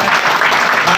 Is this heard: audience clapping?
yes